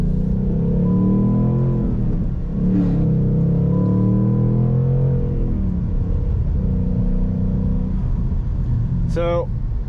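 A 2019 Ford Mustang Bullitt with an MT82 manual gearbox pulls away in track mode, its engine rumbling steadily and rising as it accelerates, while a person talks over it from inside the car.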